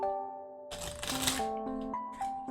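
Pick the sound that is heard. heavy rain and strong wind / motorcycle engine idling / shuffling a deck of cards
shuffling a deck of cards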